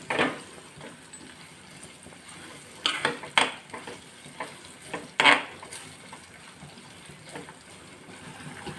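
Cashews and sliced onions stirred in a frying pan for a pepper chicken liver fry, giving a steady low sizzle broken by several scraping spoon strokes against the pan, close and alone with no talk.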